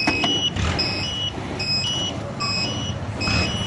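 Short high electronic chirps from a TEXNO alarm remote for a Suzuki GSX-R600 K7 motorcycle, repeating in quick paired bursts at steady intervals against a loud background hum.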